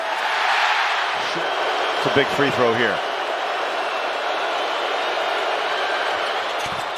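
Basketball arena crowd at a Celtics versus Jazz game, a broad sustained murmur and cheer filling the background beneath a commentator's voice during a free throw.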